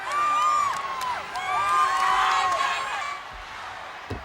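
A record crowd roars and cheers at a 1984 World Class Championship Wrestling event in Reunion Arena, loud and sustained with whoops and shouts rising and falling across the moment, the noise thinning slightly toward the end.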